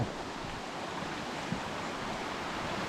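Glacier meltwater stream on an outwash plain near Seward, Alaska, rushing steadily as a continuous broadband wash of water close by, with no voices.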